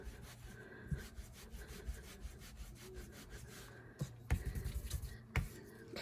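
Blending brush rubbed back and forth on a microfiber cloth to clean it, a soft, close scratchy scrubbing in quick repeated strokes, faint overall with a few sharper taps.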